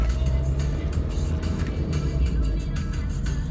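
Renault Clio 1.5 dCi diesel car driving, a steady low engine and road rumble heard from inside the cabin, continuous and even throughout.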